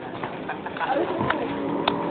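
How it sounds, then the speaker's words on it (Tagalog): A bird cooing softly a few times against a noisy outdoor background with faint distant activity. "Oy, may ibon!"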